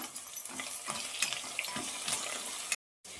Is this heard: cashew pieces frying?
yes